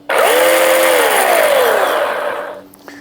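Ryobi 18V cordless chainsaw with a 12-inch bar, powered by a 9 amp-hour battery, revving loud and close at a steady high whine for over two seconds, then winding down to near quiet.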